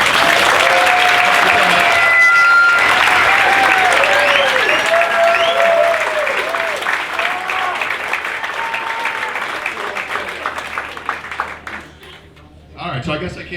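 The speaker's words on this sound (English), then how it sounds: "if we could just get a round of applause for the candidates" Loud crowd applause for Republican U.S. Senate candidates at a debate, sustained for several seconds, with whistles and cheering voices on top before it tapers off near the end.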